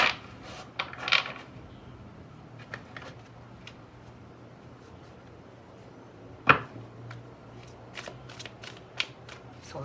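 Light Seers tarot cards being shuffled by hand, with soft riffling bursts at the start, a sharp snap midway and lighter flicks near the end over a quiet room hum.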